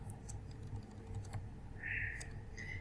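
Sparse keystrokes on a computer keyboard while entering text in Microsoft Word, a few quiet separate clicks near the mic against a low hum, with a short higher whir partway through.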